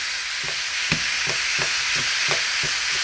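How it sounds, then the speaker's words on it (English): Ground beef fries loudly in a pan under a steady, bright sizzle while a metal spoon breaks it up, tapping and scraping against the pan in a regular rhythm of about two strokes per second. "I'm going to take my spoon and just break our ground beef"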